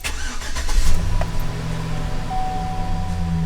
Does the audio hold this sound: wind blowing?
no